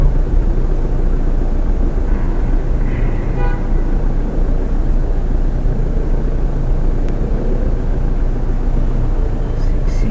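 Night city road traffic in Pasig, Philippines: a steady dense rumble of engines and tires with occasional faint horn toots, continuous and close throughout.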